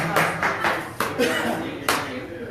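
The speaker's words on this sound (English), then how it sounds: "Always that one person in the crowd starts a slow clap" A single person claps slowly in a crowd, several spaced, sharp hand claps at an unhurried rhythm over light background voices.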